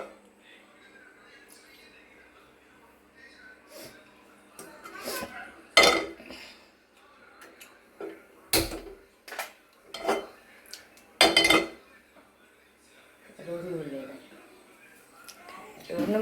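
Pots and metal utensils clank and scrape in a home kitchen during cooking with banana leaves, several sharp clinks scattered among quieter handling, with voices talking at times.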